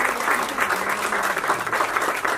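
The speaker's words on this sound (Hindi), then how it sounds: "मैं चाहूंगा कि बेटर हाफ डॉक्टर विजय चंदक जी के लिए जोरदार तालियां हो जाए" Steady applause from a crowd, dense clapping throughout at a fairly loud level with no pauses.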